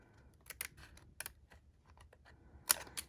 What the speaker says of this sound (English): We're just going to take our scissors and we're going to trim from the inside around the bend